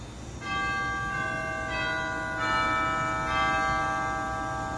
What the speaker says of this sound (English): And we also have orchestral chimes, which are something that you didn't find on a lot of organs.